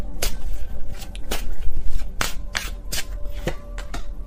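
Tarot cards being shuffled by hand give a series of sharp, papery riffling bursts at an uneven rhythm, close and fairly loud, with no talking.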